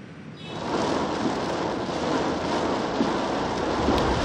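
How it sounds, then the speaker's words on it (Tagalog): Heavy afternoon rain pours down in a dense, steady roar, swelling in just after the start and continuing unbroken, with a low rumble of thunder beneath. "Pasado alas 2 ng hapon nang bumuhos ang malakas na ulan na may kulog at kidlat."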